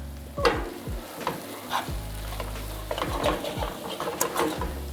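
Pasta being stirred together with Cajun butter, giving soft wet squelches and scraping strokes from a utensil in a pan, with a low steady hum underneath and no talking.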